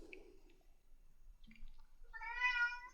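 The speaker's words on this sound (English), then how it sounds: "My cat says hi, maybe you heard it." A cat meows once, a clear rising-and-falling call near the end, after quiet rustling and small household sounds in a room.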